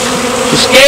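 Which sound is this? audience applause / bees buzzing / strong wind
bees buzzing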